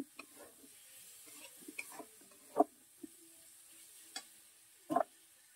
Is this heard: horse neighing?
no